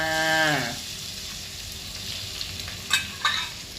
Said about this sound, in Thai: ผัดลงไปจนหอมนะคะ